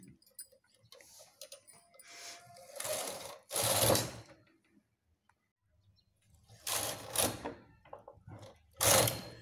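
A knitting machine carriage is pushed across the needle bed while a sweater border is made, giving several loud rasping, clacking sweeps in separate bursts with quiet gaps between them.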